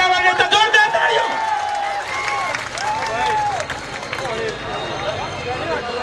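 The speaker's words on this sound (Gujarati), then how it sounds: "જોરદાર તાળીઓ" Crowd applause and cheering at an outdoor election rally, loud sustained clapping mixed with whistles and hubbub, with a voice speaking over the crowd.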